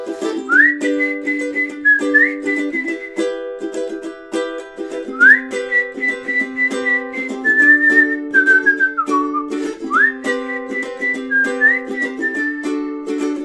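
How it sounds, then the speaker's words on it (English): Solo whistled melody carrying a song tune, clear and close, with short rising slides and held notes in a steady phrase over a bright sustained instrumental accompaniment, with no talking. "Maybe whistling solo here?"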